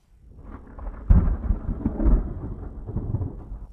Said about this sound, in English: The storm had already hit.